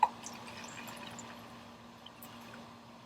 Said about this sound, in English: And we're going to pour that into our other cup.